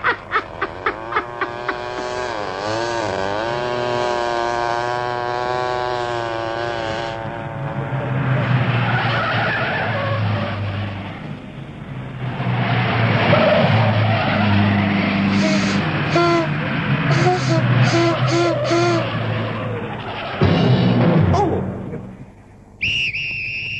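A car driven recklessly skids with long tire screeches and engine roar, loud and close, rising and falling in repeated bursts over about twenty seconds, with a whistling tone at the start.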